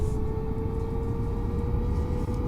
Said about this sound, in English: That's the sound of the APU firing up right there.